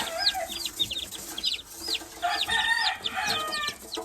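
Young gamefowl chicks peep and chirp repeatedly, a busy overlapping chorus of high calls close by as they are moved from an incubator to a brooder.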